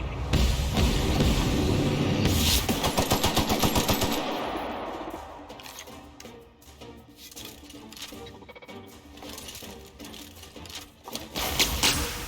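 Rapid automatic gunfire from a gun in the video game The Outer Worlds, a loud sustained burst of shots that trails into a quieter, stuttering rattle of fire with a final louder flurry at the end.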